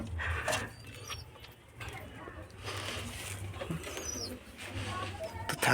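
Pigeons coo softly in the background, low and muffled, with faint chirps and bits of distant talk mixed in.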